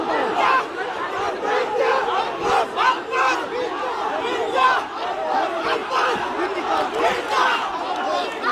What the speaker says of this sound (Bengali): মির্জা আব্বাসকে ঘিরে চতুর্দিকে সকলে কিন্তু ভুয়া ভুয়া স্লোগান দিচ্ছেন